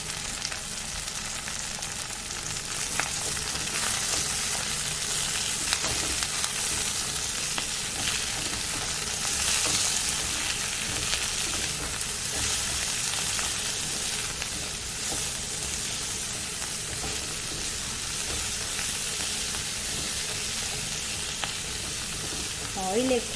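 Seasoning sizzles in a pan of oil for green cherry tomato chutney, a dense, unbroken frying hiss lasting the whole stretch with faint scraping of stirring beneath it.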